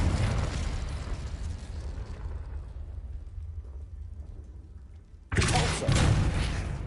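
A Confringo spell blast from the video game Hogwarts Legacy: a loud explosive burst that decays into a rumbling tail, then a second sharp blast strikes near the end.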